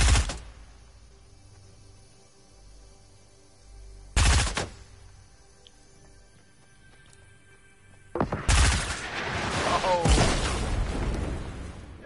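Gunfire and rocket blasts in a video game: sharp, loud bursts at the start and middle, then a longer stretch of dense shooting and explosive booms near the end.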